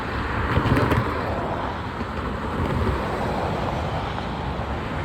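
Street traffic at the Torrance area intersection of Del Amo Blvd and Crenshaw Blvd, a steady broad roar of passing vehicles with some wind buffeting on the microphone and a brief louder swell early on.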